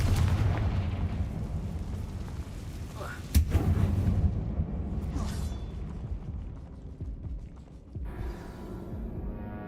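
A Confringo fire spell explodes in Hogwarts Legacy, a heavy booming blast over rumbling game ambience, followed by a second burst and lingering crackle, with a voice speaking faintly in the mix.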